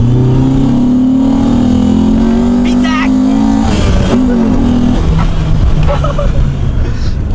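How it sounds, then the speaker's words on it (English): A silver car pulls hard through the gears after a new shifter install, engine droning and rising in pitch, dipping briefly at a shift near the middle, then climbing again, loud and close under steady road and wind noise. "You guys want to see how slow this car is?"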